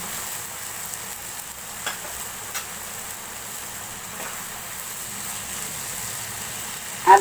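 Chopped tomatoes frying in a hot pan for a fish curry, a steady soft sizzle throughout with a few faint clinks, ending in a sharp knock, no one speaking.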